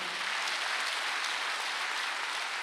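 A church congregation at a Wednesday worship service claps together in a dense, continuous burst of applause that holds steady for the whole stretch, with no voices standing out.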